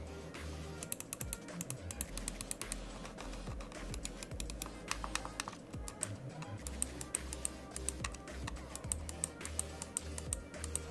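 Button clicks from a Dragonwar Emera ELE-G11 budget gaming mouse, heard close up as quick, crisp, irregular clicks in a series over a faint background hiss.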